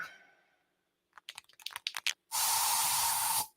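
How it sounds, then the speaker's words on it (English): Bug spray from an aerosol can bursts in one sustained loud hiss after a run of quick clicks and rattles, in a radio advert. "So you just used bug spray in your home."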